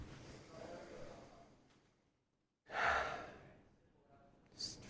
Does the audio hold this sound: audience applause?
no